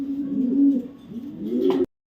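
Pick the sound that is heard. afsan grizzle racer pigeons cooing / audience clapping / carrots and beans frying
afsan grizzle racer pigeons cooing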